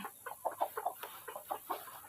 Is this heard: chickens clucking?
yes